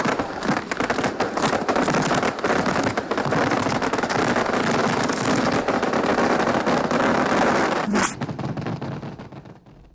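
A dragon breathing fireworks is rendered as a sound effect: a steady, dense crackle and hiss with scattered sharp pops, a bright burst near the end, then a fade.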